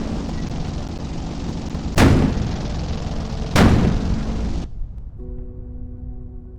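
A small tank gun in the tank design video game Sprocket fires twice, a pair of loud, sharp blasts a second and a half apart over steady engine rumble, which then drops to a quieter hum.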